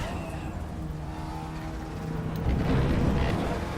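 An Audi TT Cup 2016 race car on RaceRoom Raceway National in RaceRoom runs at full throttle, its steady engine drone rising and growing louder toward the end as it accelerates out of a corner.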